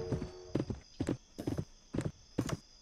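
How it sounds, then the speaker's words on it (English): Rhythmic clip-clop of a horse's hooves galloping in the Roblox Westbound game, six evenly spaced hoof bursts, close and fairly loud, with a steady high electronic tone running underneath. "Go, horse, go!"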